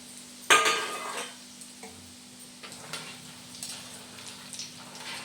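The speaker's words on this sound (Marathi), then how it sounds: "चांगलं कडक तळून घ्यायचं आहे आपल्याला बघा सतत आपल्याला असं हलवत राहायचं आहे" Peanuts frying for masala chiwda are stirred in a pan: one sharp metallic clank of the utensil against the pan, then soft, sparse scraping and light ticks at close range, with no talking.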